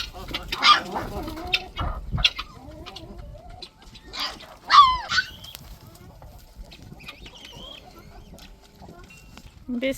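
A flock of chickens clucks and squawks in scattered bursts after feeding, with Maremma puppies roaming among them; calls come in irregular flurries at moderate distance with quiet gaps between.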